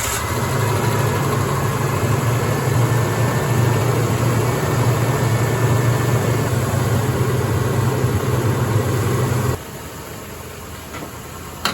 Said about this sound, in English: Let's see if this thing will fire up and idle smooth.